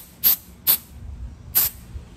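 Three short, sharp hisses from a spray can aimed at a taped part of a 1947 wooden buffet under repair, close and crisp, separated by brief quiet gaps.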